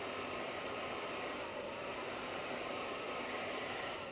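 A handheld heat tool blows hot air steadily to heat set ink on fabric, a constant broadband whoosh that stays loud and even throughout with no talking.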